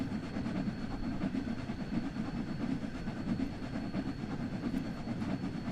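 Steam locomotive hauling a rail tour around Horseshoe Curve in Train Sim World 2, accelerating toward a middle gradient; a steady, loud rumble of chuffing and running rail noise holds throughout with no talk.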